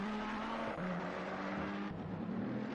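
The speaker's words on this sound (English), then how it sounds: "You can hear Cool Racing's engine lighting up." Race car engine in Assetto Corsa Competizione, racing at Circuit of the Americas: a steady, buzzing engine drone that holds level pitch and dips briefly twice, loud and continuous with no talk.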